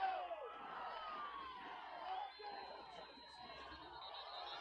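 A hometown crowd at a high school football game between the Los Fresnos Falcons and the Edinburg Economedes Jaguars murmurs, shouts and cheers from the stands, a distant, sustained roar that swells and eases.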